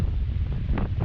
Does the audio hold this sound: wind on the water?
yes